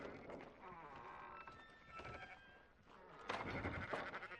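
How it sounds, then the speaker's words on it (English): Sheep bleat several times in wavering, nasal cries over a low background of Red Dead Redemption game ambience. "Fine sheep."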